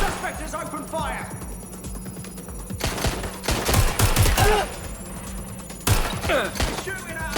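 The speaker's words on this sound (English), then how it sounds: "Shots fired!" Gunfire in the video game Watch Dogs Legion, loud rapid bursts of shots in a couple of clusters, with shouted voices and a ringing phone tone mixed in throughout.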